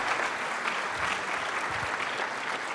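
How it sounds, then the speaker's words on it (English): Audience applause for presenters at a 1 Million Cups startup pitch event in Kansas City: steady, dense clapping from a crowd, moderately distant and even throughout, with no talking. "Let's give them a round of applause."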